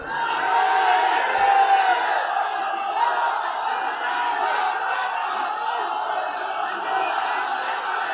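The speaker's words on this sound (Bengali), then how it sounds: "একজন তাকবীর দেন, আওয়াজ করে তাকবীর পড়েন।" A large crowd roars together in a sustained, loud collective shout of the takbir at a Bangla Islamic sermon gathering, a dense wall of voices holding steady throughout.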